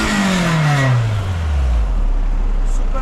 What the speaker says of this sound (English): Can you just go to the exhaust and hear the exhaust?